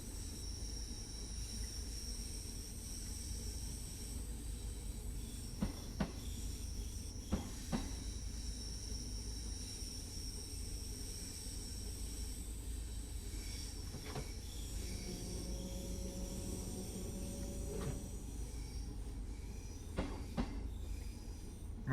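Class 314 electric train running into Glasgow on the Cathcart Circle, a steady rolling rumble with occasional wheel clicks and a sustained high squeal, no talk.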